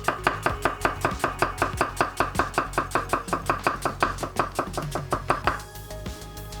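A knife chops an onion on a cutting board in a fast, even rhythm of about thirty crisp, close thuds, then stops.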